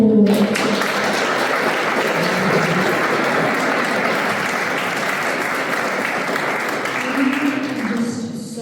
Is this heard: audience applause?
yes